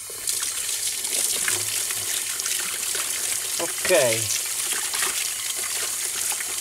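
Tap water runs continuously while greasy hands are washed after car repair work, a steady hissing trickle, with a brief spoken word and a short voiced sound near the middle.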